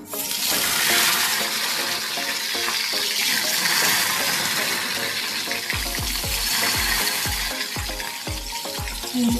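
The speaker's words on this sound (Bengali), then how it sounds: "তেলটা গরম হতে দিতে হবে বেগুনটা ছাড়লাম" Loud, continuous sizzling of eggplant frying in hot mustard oil, a dense crackling hiss with occasional low knocks from the pan.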